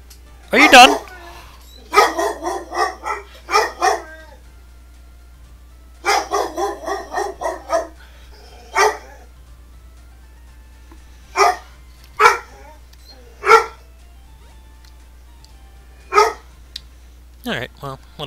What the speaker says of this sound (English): Just gonna let her bark.